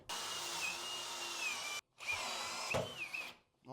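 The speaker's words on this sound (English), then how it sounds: "So I will drill a little bit like here somewhere." Power drill whining as it bores into ballast inside a boat hull during gelcoat work, two sustained bursts separated by a short pause, close and steady in pitch.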